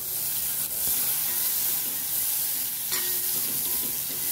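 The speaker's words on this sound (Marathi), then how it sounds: "हे अर्धी वाटी चणे आहे, यामध्ये टाकून घेऊया।" Chickpeas tipped into sizzling masala in a kadai and stirred, a continuous loud frying sizzle with a few faint scraping clinks from the spoon.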